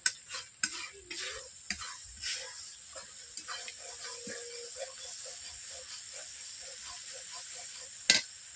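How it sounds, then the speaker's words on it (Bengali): Spice paste frying in oil in a kadai, with soft spattering and occasional spoon scrapes and knocks against the pan. Close but fairly quiet, with a sharper clatter near the end. "মশলা কষানো হয়ে গেছে, মশলার থেকে তেল ছিটিয়ে যাচ্ছে"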